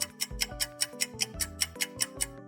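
A timer sound effect ticks steadily, about five ticks per second with a tonal tock under each beat, clear and close with no voices.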